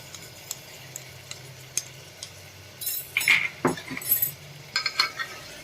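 Ground spices, chopped tomato and crushed red chili get stirred in hot oil for a Gujarati valor and brinjal shaak. A quiet stretch gives way to a burst of metal spoon scrapes and clinks over a soft sizzle, close by.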